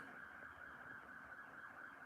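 A siren wails steadily outside throughout, a continuous tone that stays fairly faint and distant, with no talking over it.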